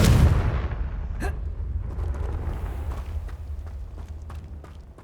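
A Confringo fire spell from Hogwarts Legacy goes off as a loud booming blast right at the start, then a low rumbling tail fades out under scattered light clicks and footsteps.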